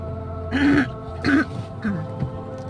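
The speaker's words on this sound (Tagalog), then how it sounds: "Pasensya na kayo, inuubo ako." Three hoarse coughs spaced about half a second apart, close to the microphone, over a steady low hum, near buses by VivoCity in Singapore.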